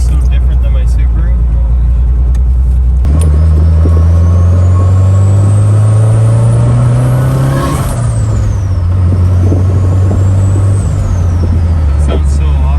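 A car engine on its first drive after an oil cooler install, a loud steady low drone that rises and falls with revs and gear changes, with strong wind and road rumble throughout.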